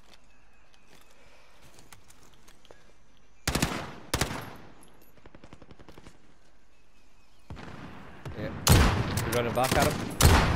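Bursts of automatic gunfire in the battle royale game Call of Duty: Warzone, sharp rattling volleys that come and go over a quieter background while a player talks.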